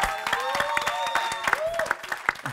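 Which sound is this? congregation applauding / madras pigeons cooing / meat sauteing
congregation applauding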